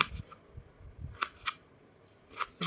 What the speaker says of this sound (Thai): มาหั่นบวบกันจ้าทุกคน